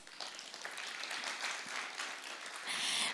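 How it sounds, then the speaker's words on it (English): Audience applause at a communications conference, a steady hiss of many hands clapping at moderate distance with no pauses, swelling slightly louder at the end. "Once again, a round of applause, please."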